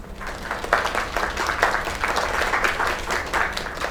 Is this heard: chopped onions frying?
no